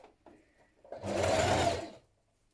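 A sewing machine stitches a shirt cuff to its sleeve in one short, close burst of rapid whirring needle action, preceded by a few soft handling clicks and then silence.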